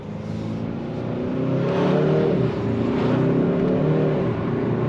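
A 2023 Hyundai Sonata N-Line accelerates hard from inside the cabin, its engine note climbing loudly through a strong pull, with rising harmonic drone and a brief shift-like dip before continuing.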